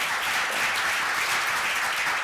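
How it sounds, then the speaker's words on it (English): Audience applause after a thank-you at an event, a steady wash of many hands clapping at full volume throughout with no one speaking over it. "A round of applause for NSF."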